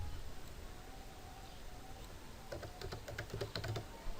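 Quick bursts of keystrokes on a computer keyboard type out a title, a rapid cluster of clicks near the end over a constant background hiss, with no speech.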